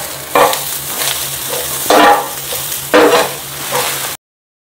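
Green chillies and curry leaves fry in hot oil for a Goan crab masala, giving a close, continuous sizzle broken by three louder bursts as they are stirred, then cutting off abruptly.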